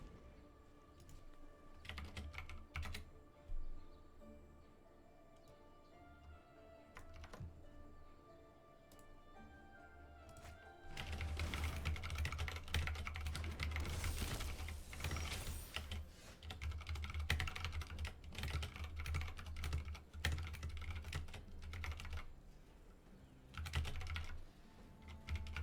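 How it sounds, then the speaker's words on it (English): Someone is typing a message on a computer keyboard, a soft and fairly distant patter of keystrokes that grows busier and denser in the second half. No one talks. "I was typing a Discord message"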